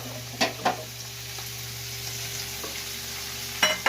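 Prawns frying in a pan with mocha (banana flower) masala, a steady close sizzle punctuated by a few sharp clinks of a spatula stirring.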